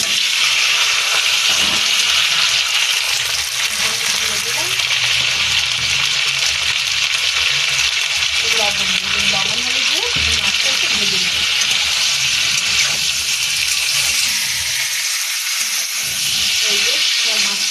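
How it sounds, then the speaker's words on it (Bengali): Prawns fry in hot mustard oil in a wok, a loud, steady, broadband sizzle and hiss close up that continues throughout, with faint clinks and a voice briefly underneath. "এবার দিয়ে দিচ্ছি মাছ মাছটা কিন্তু আমি একটু ভেজে নেব"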